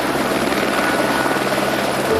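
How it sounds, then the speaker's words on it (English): Helicopter rotor and engine roar, loud and steady, filling the whole stretch with a dense continuous drone, heard at an Antarctic station shortly before a flight out to a ship. "The last chopper leaves for the ship in an hour."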